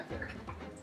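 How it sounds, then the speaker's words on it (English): A dog in the Kingdom of the Sky video game lets out a short, low groaning whine with breathy panting, soft and brief against quiet game ambience. "Why are you groaning, dog?"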